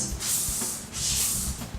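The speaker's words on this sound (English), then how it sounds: "So we're just going to give it a really nice spray." Hairspray hisses onto a freshly wand-set curl in two steady bursts, each lasting about half a second, close up with no talking.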